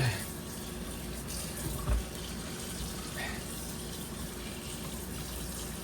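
Tap water runs steadily from a faucet over raw chicken in a sink, a continuous splashing gush with a brief clunk of handling partway through.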